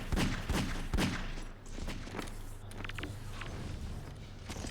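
Magnum revolver shots trade back and forth in a Half-Life 2 Deathmatch 1v1 duel, several sharp bangs close together early on, followed by mechanical clicks and footsteps.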